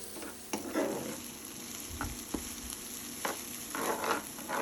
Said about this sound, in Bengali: পেঁয়াজ দিয়ে আমি কিছুক্ষণ একটু নেড়ে চেড়ে দিচ্ছি, যাতে করে পেঁয়াজ একটু সফট হয়ে যায়